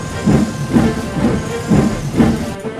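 A steam train chuffs along in a regular rhythm of loud hissing puffs, about five beats, close by and continuous.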